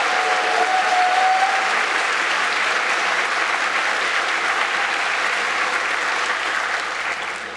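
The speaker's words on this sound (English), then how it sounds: "So round of applause for yourselves for just being lovely people." Applause from a festival audience at the EMF 2022 closing ceremony, a dense steady clapping that fills the whole stretch and tapers slightly toward the end, with a brief faint whistle near the start.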